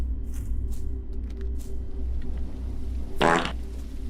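A single wet, buzzy fart from a Chilla's Art horror video game bursts out for about a third of a second over quiet ambient background noise.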